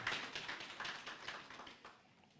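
Scattered applause from a modest audience at a party press conference, acknowledging the national chairman, with quick uneven claps that fade slightly toward the end, fairly faint and distant.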